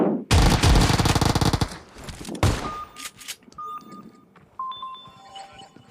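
Automatic gunfire in the mobile game PUBG Mobile comes as a loud, rapid burst, followed by single shots and electronic beeps from the game.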